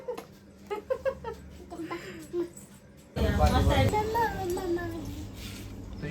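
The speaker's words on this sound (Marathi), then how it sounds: "तुझी मांजर" A pet cat gives a few short meows and cries near a voice, then a louder stretch follows where people talk and laugh close by.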